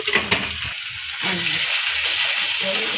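Prawns stir-frying in spiced oil in a pan, with a steady, loud sizzle that runs throughout and bursts of scraping spatula strokes early on.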